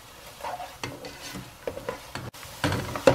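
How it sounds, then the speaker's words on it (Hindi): Masala for fish curry frying in oil over medium heat: a faint sizzle broken by intermittent close scraping strokes of a spoon stirring the pan. "भुन रहा है मसाला"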